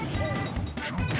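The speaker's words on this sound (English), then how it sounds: "Did he just blow himself up with the grenade?" A grenade blowing up in Super Smash Bros, a loud crashing impact within dense game audio, with a short tonal sweep and overlapping hits.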